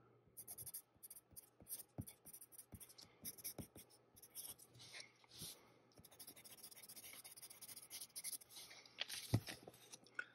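A standard Musgrave No. 2 wooden pencil scratches across paper in quick, close, quiet strokes, with a steady rhythm of short scraping marks and light taps.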